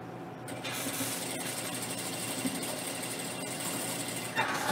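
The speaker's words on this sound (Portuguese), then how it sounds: "E vou passar uma costura." A sewing machine stitches a seam joining two quilt block pieces placed right sides together, a steady mechanical whir running continuously at close range from start to finish, with a brief clunk near the end.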